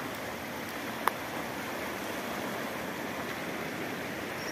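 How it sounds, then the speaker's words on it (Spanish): Cañabralejo river in Cali running during a rainstorm, a steady broadband rush of flowing water that holds constant throughout, with one brief sharp click partway through. "Así está el río Cañabralejo en medio de esta lluvia de hoy"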